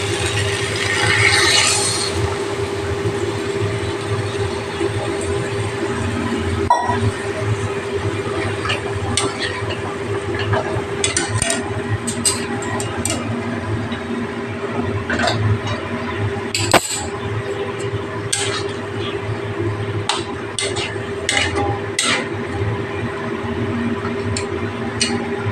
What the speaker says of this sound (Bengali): এবার আমি এদের জল দিয়ে দিচ্ছি।